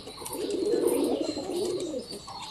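Giribaz pigeons cooing close by, a steady warm murmur of overlapping coos with a few faint chirps above it, continuous through the short stretch with no talking.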